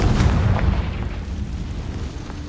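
A fiery Confringo spell blast in Hogwarts Legacy, a low, booming burst that rolls out loud and close, then rumbles on under ambient game sound.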